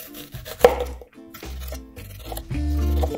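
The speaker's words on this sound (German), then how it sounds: "Die Zwiebeln werden Ringe geschnitten." Onions being sliced into rings with a knife on a cutting board, a series of distinct, close chopping knocks in an uneven rhythm with short pauses between cuts.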